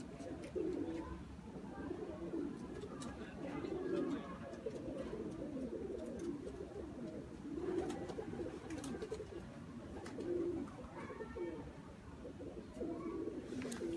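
Teddy pigeons coo in a loft, soft repeated low coos recurring every couple of seconds at close range, with faint background chatter and a few sharp clicks.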